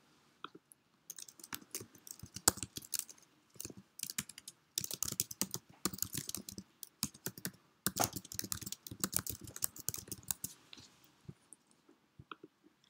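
Quiet, close typing on a computer keyboard in irregular bursts of rapid clicks with short pauses between them, heard alone with no talking.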